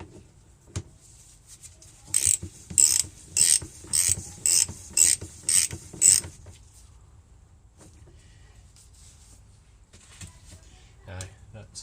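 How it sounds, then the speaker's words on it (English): A ratchet wrench clicks in a quick run of about seven sharp bursts while working on the front fork of an Aprilia RS125 motorcycle on a bench, then falls quiet apart from faint shop noise. "where's the ratchet for that?"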